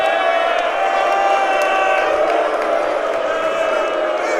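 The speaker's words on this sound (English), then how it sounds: "Both cheering sections getting really loud now." Basketball crowd at an Elder versus St. Xavier game, both cheering sections roaring in a steady, dense wash of voices and whoops that stays loud throughout.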